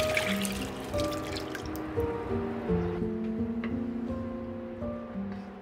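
Water poured into a pot of rinsed, soaked, peeled split mung beans over medium heat, a steady liquid splashing and trickling close by over a faint kitchen hum.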